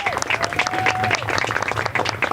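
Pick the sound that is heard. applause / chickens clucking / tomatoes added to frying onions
applause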